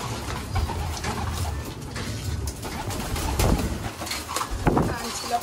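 Pet pigeons coo softly nearby at 5 pm over a low rumble of background noise, with occasional short calls rising above the murmur.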